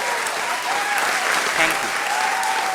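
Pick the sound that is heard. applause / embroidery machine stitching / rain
applause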